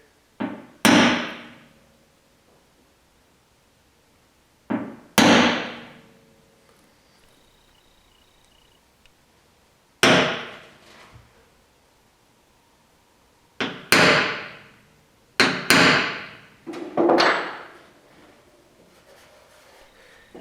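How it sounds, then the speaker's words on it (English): A hammer strikes a center punch against metal on a 2009 Silverado 2500HD truck while holes are marked for a DV8 chase rack install: sharp, close metallic taps with short ringing tails, landing singly or in quick pairs every few seconds. "I'm gonna use the center punch here just to find the center of these holes easy"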